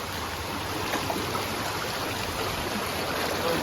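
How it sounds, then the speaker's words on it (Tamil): River water flows steadily at Sungai Pisang near Kuala Lumpur, a constant soft rushing hiss with no breaks, moderately quiet and even throughout, with no one speaking. "ஆற்றுல தண்ணி கம்மியாக போகிற மாதிரி இருக்குது, நம்மளை இழுக்குது. நல்ல ஃப்ளோ."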